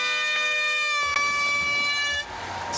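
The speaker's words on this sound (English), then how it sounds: "sounded a lot more like an air horn" A loud air horn blasts to start the women's swim at an IRONMAN 70.3 World Championship race in Lahti, Finland, holding a long steady tone of about two seconds, with a second short toot near the end over open outdoor ambience.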